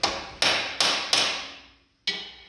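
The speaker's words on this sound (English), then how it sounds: "the 3/8 bolt won't fit in it, so I have to tap it in there with a hammer" A hammer taps a 3/8 bolt into a slightly undersized 23/64 drilled hole in an S10 truck frame while fitting rear cab mounts for a '48 Chevy truck: five sharp, close metallic strikes, four in quick succession and one after a pause.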